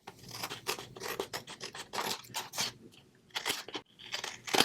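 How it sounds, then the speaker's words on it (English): Scissors crunch and scrape through the paper backing of a large handmade napkin tag in several close, uneven bursts separated by short pauses. "Let's go ahead and cut that away."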